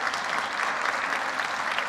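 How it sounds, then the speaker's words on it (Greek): An audience applauds volunteers at a festival program presentation, with dense, even clapping filling the room throughout and no speech over it. "Ένα χειροκρότημα και για τους εθελοντές."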